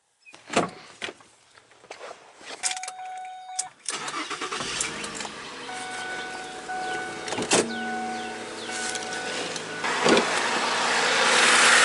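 The power passenger seat motor in a Lincoln MKZ: a few switch clicks and knocks, then a steady electric whir that runs as the seat travels, close and fairly loud with no voices.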